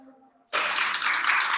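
Small audience clapping together after a talk, a dense close burst of applause starting abruptly after a faint tonal hum and continuing steadily.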